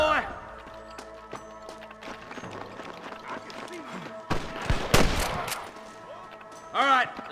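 Gunfire in the Western video game Red Dead Redemption, a scattered series of sharp shots and bursts over several seconds with game ambience and other effects around them.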